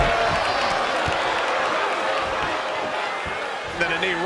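Crowd noise from an ECW wrestling video game: a steady, dense roar of cheering and applause fills the whole stretch, continuous and fairly loud, with a brief voice-like tone near the end.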